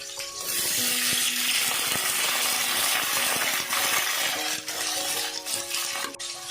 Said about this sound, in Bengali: ভেন্ডিটা আমি 2 মিনিট ভাজা করে নিলাম,